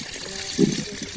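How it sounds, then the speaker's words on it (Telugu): Water from a hose pipe splashes onto garden okra and gongura plants in a short, soft trickle that swells briefly midway before settling. "ఈరోజు నేను చెట్లకు నీళ్ళు పడుతున్నాను"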